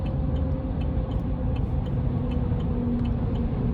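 Inside a 2024 Chevrolet Silverado 1500 Custom Trail Boss, a full-size pickup on 20-inch wheels, a steady low rumble of tire and road noise continues unbroken while driving, with faint ticking on top and no talking.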